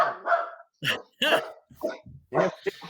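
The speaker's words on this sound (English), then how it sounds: "You're barking at us." A dog barks and yips several times in quick bursts, fairly close, with short pauses between the barks.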